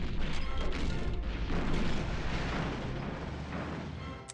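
Tank unit opening fire in the turn-based strategy game Panzer General II: a loud, dense crash of artillery-like explosive booms holding steady throughout, with no talking over it.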